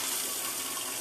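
Water runs steadily from a faucet into a drip coffee urn set in a sink, a continuous close hiss and splash lasting about a second.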